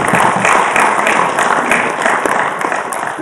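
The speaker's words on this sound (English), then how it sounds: "Please give him a big round of applause for his" Dense audience applause fills a lecture hall after a speaker is introduced for a lecture series, a steady wash of many hands clapping throughout without a break.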